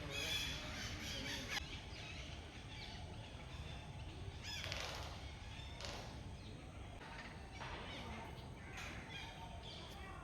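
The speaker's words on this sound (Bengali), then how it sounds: "পাখিদের কলরব শোনা যাচ্ছে চারিদিকে" Birds squawk and squeal around a zoo enclosure, a busy chorus of scattered calls near and far with occasional wing flutters over a quiet outdoor background.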